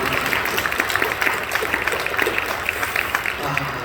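A church congregation claps for a small vocal ensemble after its song at an early-morning New Year worship service, a dense, steady patter of many hands lasting the whole stretch at moderate loudness.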